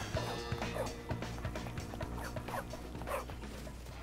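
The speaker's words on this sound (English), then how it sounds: "And this stupid dog." Dog barking in the video game Bully: Scholarship Edition, a series of repeated barks and yips over steady game music and background sound, moderately loud and close.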